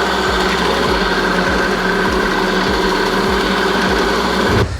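An Allett Liberty 43 cylinder mower runs close by with a loud, steady whirring drone and a rhythmic, evenly spaced clatter from its turning reel, then cuts off abruptly at the end.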